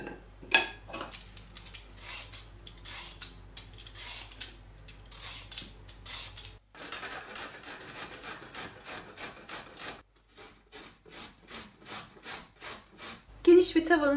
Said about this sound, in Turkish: Soyup rendeleyeceğim.